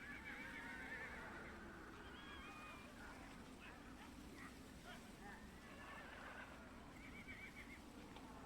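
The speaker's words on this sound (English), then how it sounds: "Someone help those horses in the background." Horses neighing and whinnying in the background of the Ace Attorney Spirit of Justice game, several calls scattered over a steady low rumble of game audio, moderately loud throughout.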